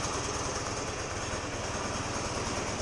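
A warmed-up Buell motorcycle engine idles steadily with a rapid, even putter, close and constant throughout.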